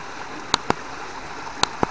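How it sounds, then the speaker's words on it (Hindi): A natural mountain stream near Jakhol village in Uttarkashi is collected as drinking water, giving a steady rushing wash with a few sharp splashes and knocks close by. "ये हमारे भाई साहब बियर ग्रिल पानी भर रहे हैं अक्षय कुमार के साथ नेचुरल पानी बिस्लरी का।"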